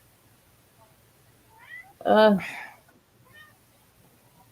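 A pet cat meows for attention, one loud, close meow followed by a shorter trailing call, while a person gives a brief hesitant sound at a quiet indoor moment.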